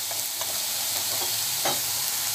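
Carrots are stirred in a pan with no added oil for lasagne, giving a continuous loud sizzle with a few soft scrapes of the utensil.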